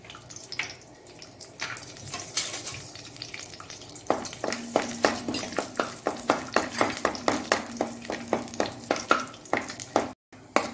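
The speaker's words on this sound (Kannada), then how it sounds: "ತುಪ್ಪದಲ್ಲಿ ಮೊದಲಿಗೆ ಗೇರು ಬೀಜ ಕಾಯಿಸ್ಕೊಳ್ಳೋಣ." Cashews sizzling in hot ghee in a pan, a soft steady fry with a regular series of scraping stir strokes, close and fairly quiet, with no talk.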